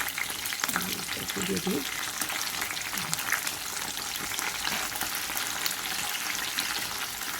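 Cumin seeds sizzle steadily in hot oil for a dal tadka, a dense crackling hiss with brief scraping stirs early on, and a voice briefly speaks over it.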